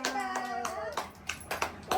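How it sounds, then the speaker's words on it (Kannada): A few people clap in scattered bursts at a simple home baby shower, loose uneven claps under a voice and some talk. "ಹೊಡೀರಿ ಚಪ್ಪಾಳೆ"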